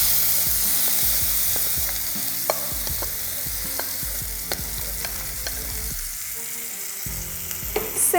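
A prepared mixture frying in olive oil in a kadai, with steady sizzling and repeated clattering strokes of a spoon stirring against the pan, close up and free of talk.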